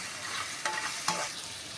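Spices such as salt, chili and turmeric are stirred into a mixture frying in a pan: a constant close sizzle with two quick utensil scrapes a moment apart, and no speech.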